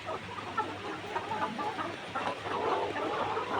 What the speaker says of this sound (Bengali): দু একটা মুরগি খাবার খাচ্ছে, বাকিগুলো হা করে নিঃশ্বাস নিচ্ছে